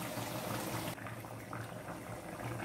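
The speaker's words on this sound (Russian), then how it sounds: "И теперь выливаем нашу горячую воду." Hot water streams steadily into a pot of buckwheat, a continuous rushing, bubbling wash of liquid close by, with a brief sharper splash at the start before settling into an even flow.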